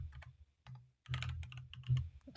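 Fingers type a command on a computer keyboard: quiet, close clicks and taps in uneven bursts, with a short gap before a faster flurry of keystrokes.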